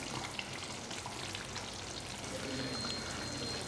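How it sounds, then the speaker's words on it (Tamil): A ground paste of coconut, onion and garlic is poured into a simmering curry, a soft continuous sizzling pour heard close and fairly quiet, with no one talking. "இந்த டைமில் நம்ம இந்த தேங்காய் வெங்காயம் பூண்டு எல்லாம் அரைச்ச பேஸ்ட்டு அதில் ஊற்றிடலாம்"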